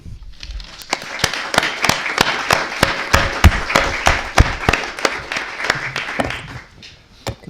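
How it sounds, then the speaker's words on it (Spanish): Audience at a literary tribute in Casa de América applauds Juan Villoro; sharp, distinct claps ring out close and loud over several seconds before tapering off. "les pido un aplauso para Juan Villoro y de paso para Pitol"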